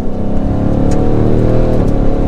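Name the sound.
Ford Mustang engine revving while driving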